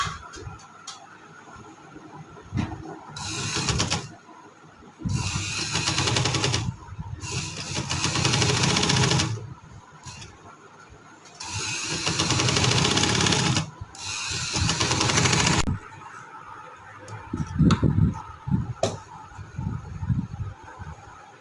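A sewing machine runs a stitching line along a trouser hem, working the fabric folded under on the inside, in several sustained bursts of whirring with short pauses between, fairly close and loud, followed by quieter handling clatter.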